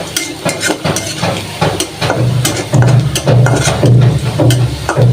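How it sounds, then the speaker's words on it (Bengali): Lentils (dal) being tempered in hot oil in a kadai, a steady loud sizzle with scattered clinks and stirring scrapes, heard alone without talk. "ডালটা বাগার দিয়ে নিতেছি"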